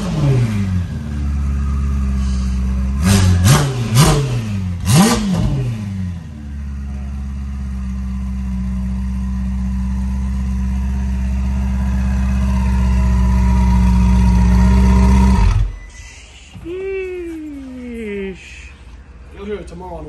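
A heavily modified turbocharged Ferrari 488 Pista sports car engine revs loudly and close, with several sharp blips followed by a long sustained rising drone that cuts off abruptly, then a voice speaks over quieter sound.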